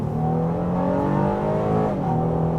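A 2024 Honda Ridgeline Trailsport pickup truck accelerates hard, its engine droning loud and close with rising, shifting harmonic tones and a brief dip as it pulls through the gears.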